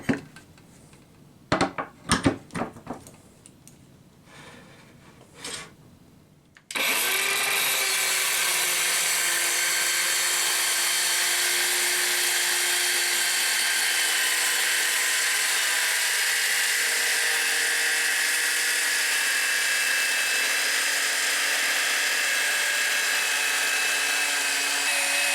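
A homemade power tool starts up and cuts into scrap 3/4-inch plywood, a steady loud whine with rough cutting noise running continuously after a few brief handling knocks and clatters.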